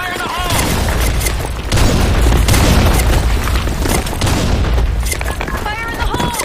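Grenade explosions and gunfire in a Sand Storm II online shooter match, loud booms and crackling shots piled into a dense, continuous barrage, with voices heard faintly among the noise.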